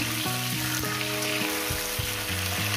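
Potatoes and broad beans fry in a pan for a fish curry, making a loud, steady, close sizzle with a constant hiss and no voices.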